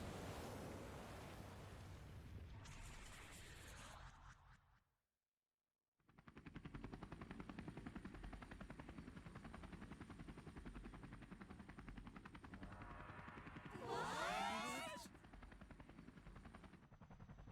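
Helicopter in the video game Persona 5 Royal: a steady whirring rotor drone with wind-like roar runs through most of the stretch after a brief silent gap, with a louder swelling burst near the end.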